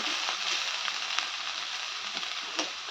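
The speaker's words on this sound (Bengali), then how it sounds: "আলু ভাজাটা হয়ে এসেছে" Potatoes fry in a pan with a steady, faint hiss of sizzling oil and a few soft crackles and stirring taps, with no voices.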